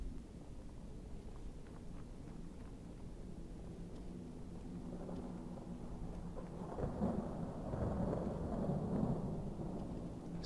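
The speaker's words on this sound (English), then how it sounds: "It's thundering." In the Skyrim video game, thunder rumbles low and swells gradually over a steady backdrop of rain, fairly quiet and distant with no voices.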